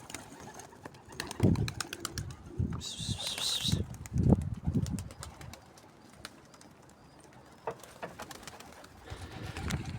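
Pigeons leaving a backyard coop, a flurry of wingbeats and scattered coos at close range mixed with rustling and a few indistinct voices in the background.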